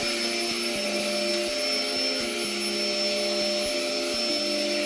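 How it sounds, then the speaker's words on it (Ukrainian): Vacuum cleaner running steadily indoors with a loud, constant motor whine and shifting droning pitch, no talking. "Щойно вмикається пилосос, собака починає утікати."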